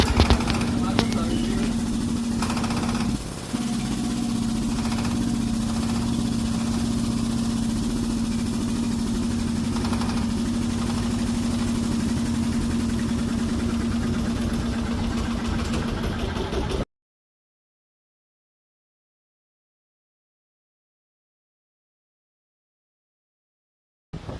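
A newly bought engine-driven machine being started and running, with a steady loud mechanical drone and a low hum for most of the stretch, then cutting off abruptly into silence.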